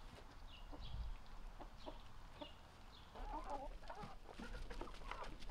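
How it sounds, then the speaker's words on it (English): Chickens cluck in short, quiet, scattered bursts on a farm where turkeys are also kept, a soft outdoor murmur of several birds with no talking. "There's just chickens and turkeys."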